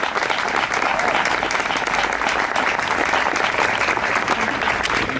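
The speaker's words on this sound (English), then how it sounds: "One big round of applause for the city of Temple City." A dinner and awards crowd applauds loudly for the Temple City council, dense continuous clapping from many hands throughout.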